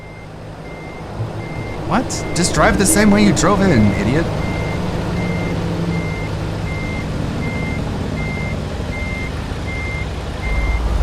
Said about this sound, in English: can't get my truck out of here